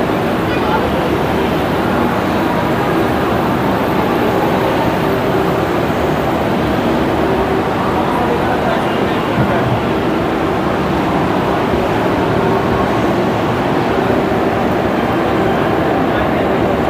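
Shalimar–Puri superfast express train (12895) pulling out of platform 2 at Shalimar station, a steady loud rumble of wheels and carriage noise running unbroken throughout.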